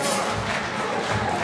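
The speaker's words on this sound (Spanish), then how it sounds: "Un aplauso, por favor." An audience at a tribute concert in Chile bursts into dense, continuous applause mixed with cheering, filling the room at a steady level throughout.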